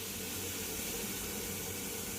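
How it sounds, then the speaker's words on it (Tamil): A pressure cooker cooking chicken curry lets off steam in a continuous, loud, even hiss that holds without a break. "இந்த ஒரு விசில் வந்துன்னா ஆஃப் பண்ணிடலாம்."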